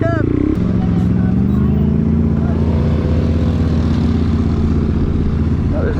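A Yamaha TW200 motorcycle rides across desert terrain, its loud engine droning steadily and close throughout, with wind noise and a brief voice at the start.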